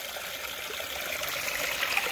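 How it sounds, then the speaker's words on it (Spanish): A small river on a rural property flows with a steady trickling and babbling, moderately close and continuous, with no voices. "Tenemos nuestro propio río"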